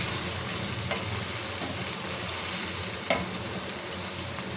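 Marinated potatoes for Hyderabadi dum aloo hit a hot pan and are stirred, giving a steady loud sizzle with a few sharp spoon clinks against the pan, no talking.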